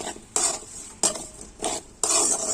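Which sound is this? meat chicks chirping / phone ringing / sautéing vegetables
sautéing vegetables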